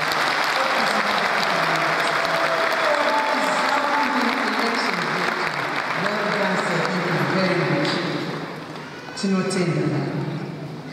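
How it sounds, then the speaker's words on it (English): Sustained applause from a large audience honoring the Chancellor at the 2013 Zimbabwe Open University graduation ceremony, loud and steady throughout, dipping briefly near the end before swelling again, with voices and cheers mixed into the crowd noise. "please let's give a round of applause to His Excellency, our Chancellor"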